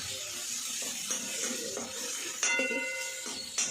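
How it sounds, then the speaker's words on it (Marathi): Tomatoes sautéing with onions in a pan for upma: a faint, steady sizzle broken by a few sharp metallic clinks of a spoon scraping and stirring against the pan. "तर आता चांगलं टमाटर परतून घेते"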